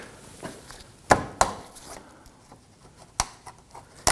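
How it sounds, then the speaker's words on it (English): A plastic retainer pried out with a trim tool on a 2018-2024 Toyota Camry 2.5L, heard as a few sharp close clicks and snaps between quiet handling noises. "I'm going to go ahead and remove this one here using our trim tool."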